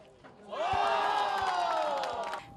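A crowd at a wheelchair basketball event roars and cheers after a made basket, a loud swelling burst of voices that holds for about two seconds and then fades.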